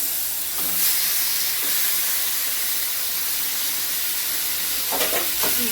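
Boiled taro greens are stirred in a hot pan to cook off the water, giving a steady steamy hiss and sizzle with a few scraping stirs near the start and end, no talking.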